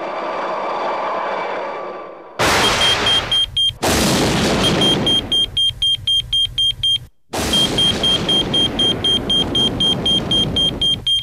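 Thunder from a lightning storm at the Grand Canyon, high above 6,000 feet: loud, close booms and rumbling crashes in three bursts, each rolling on for a few seconds, with a steady electronic beeping pulsing through them.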